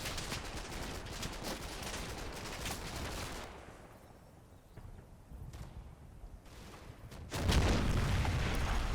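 A Sherman tank fires in the Combat Mission World War II game, a quiet burst of gunfire that fades into a lull before a sharper, louder shot near the end.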